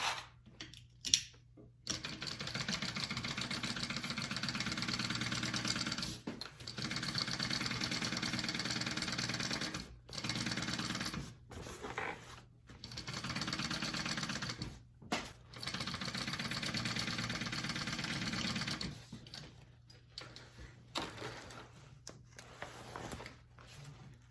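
A sewing machine top stitches a backpack lining in long steady runs of whirring motor and needle chatter, broken by several brief pauses between bursts, close and moderately loud with no talking.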